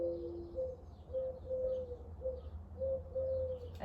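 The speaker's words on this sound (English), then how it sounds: "I called in the birds to talk to you." An owl and other birds calling outdoors, a soft, repeated hooting coo in a steady series of short phrases, mid-distance and clear over faint background chirps.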